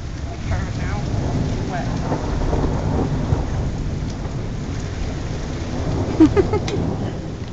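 Steady heavy rain pours down during a Colorado thunderstorm while thunder rumbles through, with a sharper crack near the end.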